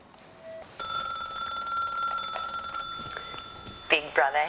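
A telephone in the Big Brother house rings with a steady electronic trill for several seconds, fairly close, before a voice begins to speak.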